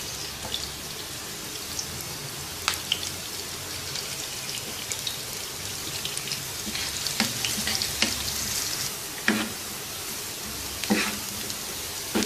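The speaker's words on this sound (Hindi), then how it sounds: "सबसे पहले अनियन ऐड करेंगे और इसको नाइस गोल्डन कलर में फ्राई कर देंगे।" Onions fry in a pan for a Dhaba-style chana dal, a steady soft sizzle with occasional sharper pops and crackles, close and moderately quiet, with no talking.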